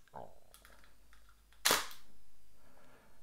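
A Hasselblad 503CW medium format film camera fitted with a CFV 100c digital back clacks loudly as its mirror-up button is pressed, one sharp mechanical snap after a few soft handling clicks, close and quiet otherwise.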